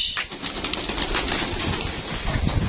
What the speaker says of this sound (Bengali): প্রথম পাল্লা তো খাঁচার ভিতরে ভরার পর একটু দাপড়াদাপড়ি করছে